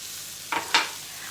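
Filling for a homemade recipe browning in a frying pan, a faint hiss broken by two short scraping stirs of a spatula, close and quiet with no talk.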